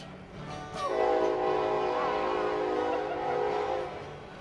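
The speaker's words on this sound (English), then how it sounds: "That's our train." A train horn sounds a long, steady blast of several minutes-held tones over low rumbling, moderately distant, then fades.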